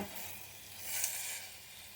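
Vegetables sautéing in a pan for a soup, a steady soft sizzle with a stirring scrape swelling briefly midway, close and alone without talk.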